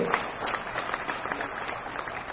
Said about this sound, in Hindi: एक बार जोरदार तालियां मैं चाहती हूँ